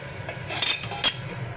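A metal lid set onto a pot of cauliflower curry, giving two light clinks about half a second apart, close and fairly quiet.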